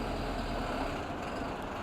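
A bus setting off on a night run from Madgaon toward Borivali drones steadily from inside the cabin, a continuous low engine rumble with a broad road hiss and no voices.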